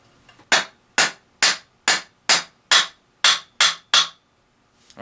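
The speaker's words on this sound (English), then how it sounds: "take a hammer and just tap on top" A hammer tapping Fox fork lower legs into place on a suspension fork during servicing, nine sharp, evenly spaced metallic knocks, close and loud, with near silence between strikes.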